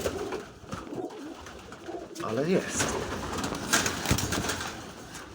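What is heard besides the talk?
pigeons cooing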